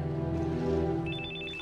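A telephone rings under a sustained musical tone, with a bright, rapidly repeating electronic trill coming in partway through and continuing to the end.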